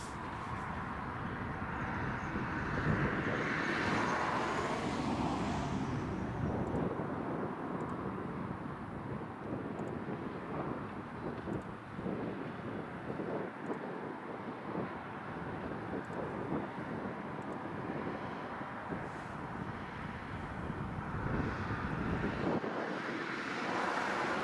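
A Kuwait Airways Airbus A340 departs Prestwick Airport, a continuous distant jet rumble mixed with wind buffeting that stays fairly even throughout, with no voices over it.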